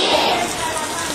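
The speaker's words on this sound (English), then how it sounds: "There's no way I could even begin to capture this rain when it comes in hits" Heavy rain falls in Honduras as a dense, steady hiss with a spattering texture, close and fairly loud throughout, with a voice speaking faintly underneath.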